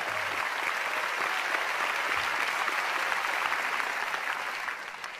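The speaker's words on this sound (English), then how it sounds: "Please go ahead and give God a big clap." Sustained applause from a church congregation fills the space, a thick, even roar of clapping hands that carries on for several seconds before tapering slightly at the end.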